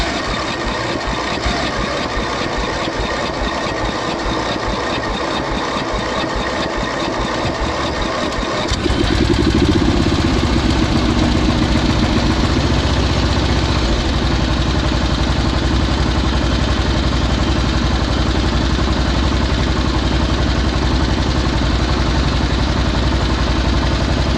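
Old tractor engine cranked straight at the starter: a steady mechanical churning, then it fires and settles into a loud, constant running rumble close by, with no voices.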